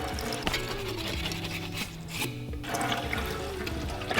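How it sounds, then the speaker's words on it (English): Water sloshes and gurgles inside a whiskey flask as it is swirled and rinsed, a continuous rough churning with a brief drop-off midway, close and moderately quiet, with no speech. "Just water and a cleaning brush. Water and that's cleaning it."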